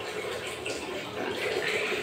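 Water runs steadily and forcefully from a tap, a continuous hissing rush at close range with no breaks.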